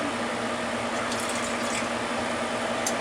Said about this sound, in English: we're still getting really good pours out of it.